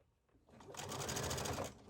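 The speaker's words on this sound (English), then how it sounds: "We're going to stitch all the way around the bottom of the shirt." A sewing machine stitches around the bottom hem of a Hawaiian shirt, starting after a quiet half second and then running in a steady close whir with a rapid needle rhythm.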